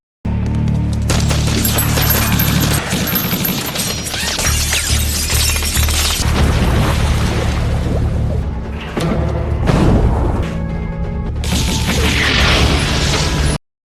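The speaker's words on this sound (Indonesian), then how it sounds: "3 orang yang membawa senjata lengkap dan langsung memberondong Frank dengan tembakan" Rapid bursts of gunfire crackle and pop in loud, dense volleys, with brief pauses between salvos and sharp impacts.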